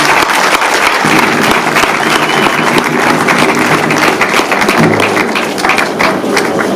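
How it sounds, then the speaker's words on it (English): A crowd applauds steadily throughout, dense clapping that stays loud and even from start to finish. "Can you give her another round of applause?"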